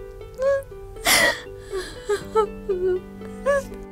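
A woman sobs and whimpers close by in short, broken bursts, with a sharp gasping breath in the middle and wavering cries afterward.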